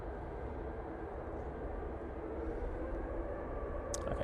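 A British Airways airliner rolls for takeoff at Manchester Airport, a steady broadband jet roar heard from a distance that swells slightly toward the end, with no talk over it.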